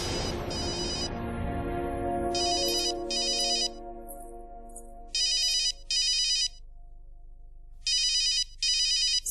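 A telephone rings in repeated paired electronic bursts, loud and close, over a sustained musical backdrop with no talking.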